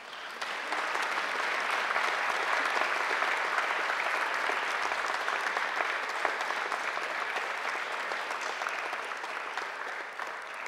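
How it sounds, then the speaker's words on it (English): Graduates at a graduation ceremony applaud their families and friends, a loud, dense, steady round of clapping from a large crowd that holds evenly for the whole stretch without talk. "give your families and friends a mighty round of applause"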